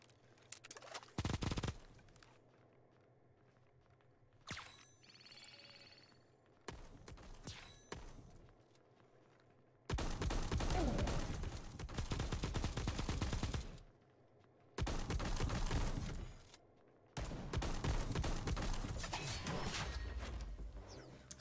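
SMG gunfire from the Bullet Echo video game comes in several separate rapid bursts, some short and some lasting a few seconds, with quiet gaps between them and faint footsteps in the pauses.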